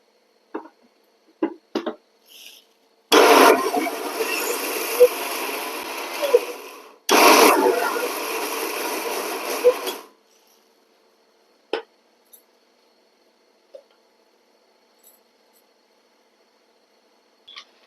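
Mixer grinder whirring through urad dal chutney with onion and tomato in two loud bursts of about four and three seconds, with scattered clicks and taps of the jar before and after.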